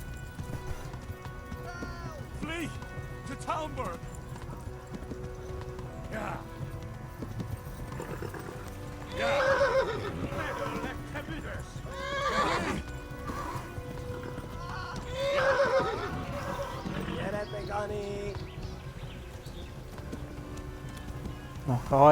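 A horse gallops and neighs in the video game Kingdom Come: Deliverance, with continuous rhythmic hoofbeats and several loud whinnies rising over game music, while someone speaks at points.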